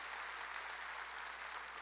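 A church congregation applauds at a fasting worship service, a dense, even wash of clapping at low volume, distant and without a break for its short length.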